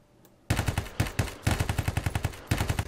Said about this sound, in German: Du willst einfach auf uns schießen